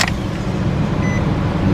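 A 2004-2015 Nissan Armada or Titan engine being cranked, with a loud, steady close-up rumble throughout and a brief high electronic chime partway through.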